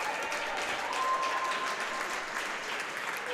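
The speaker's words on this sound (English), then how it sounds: "And applause from the Friar, faithful to my left." A crowd claps steadily in a rink during a junior varsity ice hockey game, a sustained wash of applause heard from a distance with faint voices mixed in.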